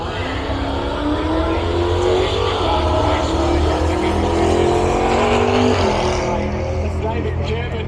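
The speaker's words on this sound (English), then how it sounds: "As these guys attempt to put another pass down the track" A heavy Chevy drag car in a drag challenge roars down the track in a sustained, loud engine pull that rises in pitch and then eases off near the end, with a commentator talking over it.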